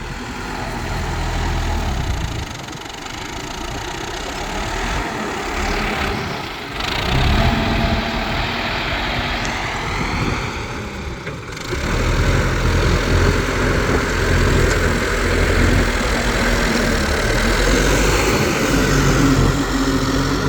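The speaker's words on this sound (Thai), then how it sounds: "แต่เครื่องยนต์ ก็น่าจะ ประมาณ4สูบนะครับ" A Yanmar S75 tractor engine runs steadily while preparing soil for sugarcane planting, a continuous loud drone with a slight shift in pitch partway through and no talking.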